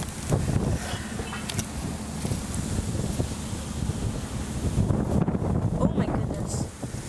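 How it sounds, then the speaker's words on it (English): Strong wind buffets the microphone with continuous low rumbling gusts, loud and close throughout, rising slightly toward the end. "wind's almost blown me over."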